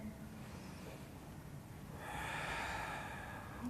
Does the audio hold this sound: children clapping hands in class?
no